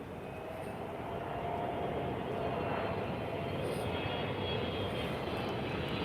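A Boeing 777 airliner lands at Lisbon with a steady, loud jet roar that holds without pause for several seconds, with no voices.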